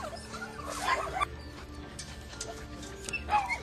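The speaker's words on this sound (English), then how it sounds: "There's about 200 dogs in this property." Dogs at a puppy mill holding about 200 dogs whimper and yip, with scattered high whines and short cries rising over a low background murmur, moderately distant and fairly quiet.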